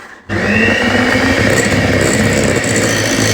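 An electric mixer whirs loudly and steadily as it beats a cream cheese, Oreo filling and icing mixture, starting abruptly after a brief pause and holding one continuous motor drone.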